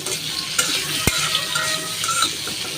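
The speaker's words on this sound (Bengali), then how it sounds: "আলু ভাজে নিই" Potatoes frying in oil in a pan give a steady close sizzle with a few sharp clinks of a utensil stirring, and no one speaks.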